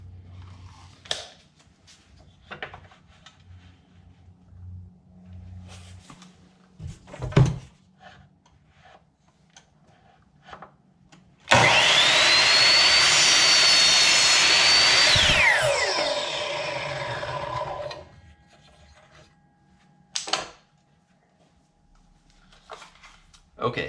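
A power saw trims the edge of a wooden board for a puzzle tray bevel, a loud high whine lasting about four seconds that winds down, with clicks and handling noise and some talk around it.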